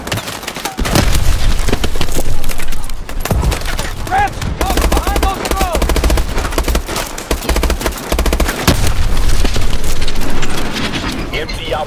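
Dense gunfire and explosions in Call of Duty: Advanced Warfare, with sustained loud combat noise, rapid shots and booming blasts throughout, and radio-style voices talking over it.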